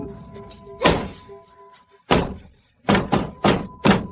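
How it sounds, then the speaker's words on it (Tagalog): A heavy door is pushed and banged: a loud thud, another after a pause, then a quick run of three hard slams close by, with faint background sounds in between. "Bakit ang tibay ng pinto na ito?"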